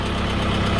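A tractor engine idling near at hand, a loud, steady low rumble with a regular rapid knocking pulse and no talking over it.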